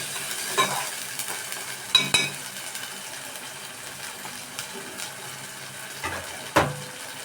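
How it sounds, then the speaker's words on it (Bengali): Chopped onion frying in a pan for loitta fish jhuri is stirred steadily, a soft continuous sizzle broken by several sharp scraping clinks of the spoon against the pan, close by with no talking. "1 পেঁয়াজ কাটা দিয়ে দিলাম। ভালোভাবে নাড়তে থাকবো।"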